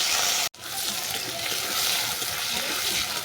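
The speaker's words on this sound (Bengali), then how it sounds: "আলুটাকে ভালো করে ভেজে নেব" Diced potatoes frying in a pan for a moringa flower chorchori, giving a steady, close sizzle that continues almost without pause and drops out only once, briefly.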